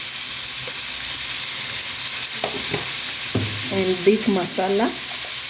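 Carrots and green grams sizzling and hissing steadily in a hot pan while being stirred, with scraping movements throughout and a voice talking briefly toward the end.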